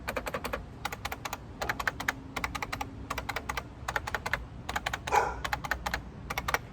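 Someone types in quick bursts on a buckling spring mechanical keyboard, each burst a run of crisp clicking keystrokes close to the microphone, separated by short pauses.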